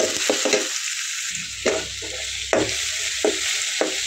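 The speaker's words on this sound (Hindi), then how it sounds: "तो ऑनियन को हम यानी कि प्याज को अच्छी तरह से फ्राई करेंगे।" Roughly chopped onion frying in oil in a pan, a steady close sizzle punctuated by several sharp scraping strokes of a spoon stirring at irregular intervals.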